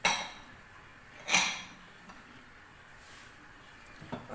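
Stirring chickpea chaat with tamarind in a pot: a few sharp metallic clinks of a spoon against the pot, two louder strikes spaced apart and softer scrapes between, close and quiet, with no talk.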